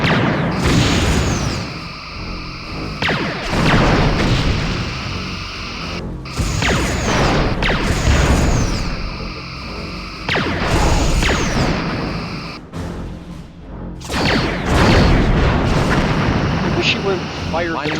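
Phaser fire and explosions in the Star Trek Bridge Commander video game, with repeated booming blasts and sweeping energy-beam tones in several loud waves, while a voice talks over them.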